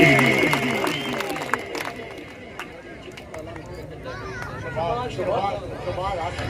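Crowd at a kabaddi match in Chakwal, Pakistan, clapping and cheering in a busy open-air din. Scattered sharp claps and murmuring voices rise and fall across several seconds, with children's voices and chatter mixed in.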